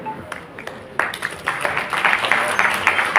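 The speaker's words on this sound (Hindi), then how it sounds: "जोरदार तालियां इन सभी 25 अभ्यर्थियों के लिए" Applause for 25 job candidates at a Rozgar Mela appointment-letter ceremony: after a faint few claps, a crowd's clapping swells at one second and keeps up steadily, growing fuller toward the end.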